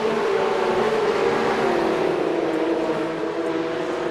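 Porsche Cup race cars at Knockhill in a racing video game, engines revving with a loud, sustained high-pitched whine that slides gradually in pitch as the cars accelerate along the track, with no talking.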